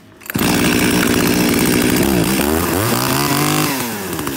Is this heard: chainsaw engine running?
yes